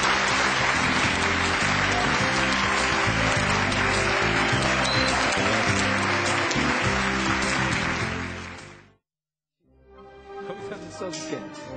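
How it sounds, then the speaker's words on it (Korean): Loud, dense audience applause for the CEO of SK Networks at the close of a televised lecture, sustained for about nine seconds before cutting off, then a smaller burst of clapping resumes. "다시 한번 오늘 함께해 주신 정만원 대표님께 큰 박수 부탁드리면서 CEO석을 마치겠습니다."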